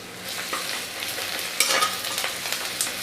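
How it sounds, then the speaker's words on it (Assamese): Garlic drops into hot oil for a chickpea curry, giving a continuous near sizzle with a sharper burst of spitting partway through and light crackles after, no talking. "আৰু এতিয়া মই ইয়াতে নহৰুখিনি দি দিম।"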